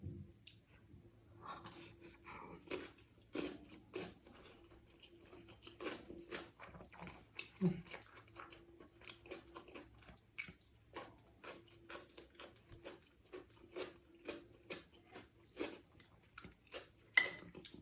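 Close, quiet chewing of braised pork with pickled cucumber and pickled chili, soft wet squishes and bites repeating at an uneven pace over a faint background hum.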